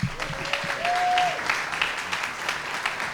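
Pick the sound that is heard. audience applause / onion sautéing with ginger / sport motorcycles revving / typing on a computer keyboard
audience applause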